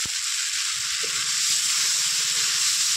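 Spice masala with salt and turmeric frying in a pan for a fish curry, a loud, steady, bright sizzling hiss with light stirring scrapes underneath, close and continuous, with no talking.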